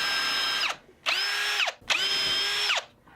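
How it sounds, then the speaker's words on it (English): Power drill spinning a self-aligning Snappy drill bit into a guitar bridge mount in three bursts, each a steady high whine that winds down, with short pauses between holes. "Then I'll use a self-aligning drill bit to drill those other 2 holes."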